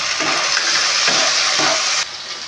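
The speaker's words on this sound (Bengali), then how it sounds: "এবার এর মধ্যে আমি টমেটো কুচিটা দিয়ে দিচ্ছি।" Chopped tomato hits onions frying in a pan, giving a loud, steady sizzle with stirring that drops off abruptly near the end; no voices.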